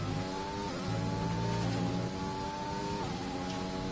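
Formula 1 race car at Bahrain roaring down the final straight in a racing video game, a steady high engine whine holding pitch with a couple of gear-shift steps, loud and continuous with no voices.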